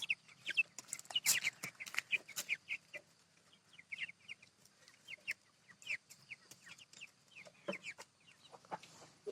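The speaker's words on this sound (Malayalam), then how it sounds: "ഇതാണ് ഞങ്ങളുടെ കോഴികള്. 10 എണ്ണം ഉണ്ട്." A flock of ten backyard chickens clucks and chatters in short, scattered calls, some near and some farther off, with no voices.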